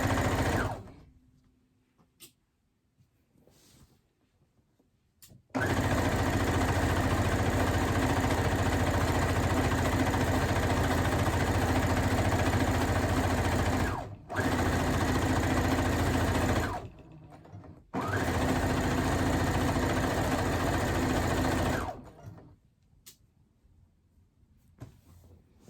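A sewing machine running a straight stitch on a reversible baby blanket: long, steady, loud motor whir with rapid needle chatter, broken by brief stops, with quiet handling noises before and after.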